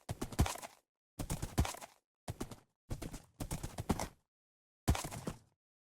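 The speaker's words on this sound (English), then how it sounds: "Let's get our horse in there." Horse hooves clip-clop in the Minecraft video game, arriving in six short clattering bursts of quick hoof strikes separated by silent gaps, fairly close and with no speech.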